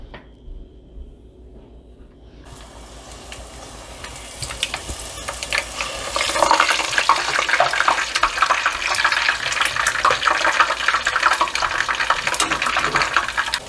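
Steady loud sizzling and crackling of Trinidad lapsi (puri) flatbread dough frying in hot oil, rising after a quieter start and continuing without talk.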